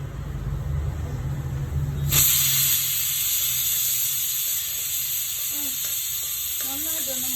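Urad dal drops into hot oil, and a sharp sizzle and hiss starts abruptly partway through and keeps going steadily, close and loud, with a brief voice faintly audible near the end.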